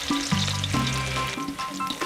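Onions frying in oil in a pan on a stove over medium heat, a close, steady sizzle with a few clattering spatula knocks, no talk.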